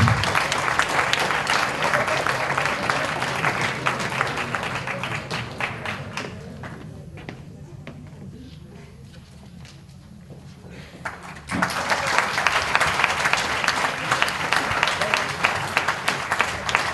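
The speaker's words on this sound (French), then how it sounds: "Je vous demande d'applaudir Laetitia Murat, notre reine de Vence 2015." Crowd applause for Laetitia Murat, the 2015 queen of Vence, loud sustained clapping that thins to a quieter patter in the middle before swelling back to full strength near the end.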